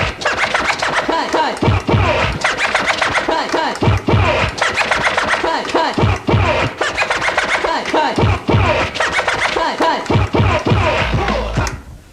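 DJ turntable record scratching with double cuts: dense rapid back-and-forth scratches of a vinyl record, repeating in tight rhythmic bursts, loud and close, with no talking.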